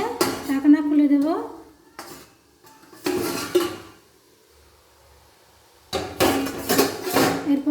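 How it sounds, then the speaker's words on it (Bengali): A metal lid comes off a cooking pot of cabbage and masoor dal dhoka, with sharp clattering bursts of metal on metal separated by brief quiet pauses, close and loud. "20 মিনিট হয়ে গেছে, ঢাকনা খুলে দেব।"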